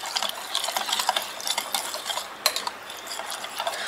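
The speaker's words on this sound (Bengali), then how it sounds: "ভালো করে মিশিয়ে নিচ্ছি।" Tandoori chicken marinade paste being mixed in a bowl with a spoon, brisk wet squelching and light metallic scraping in quick repeated strokes, close and steady, no talking.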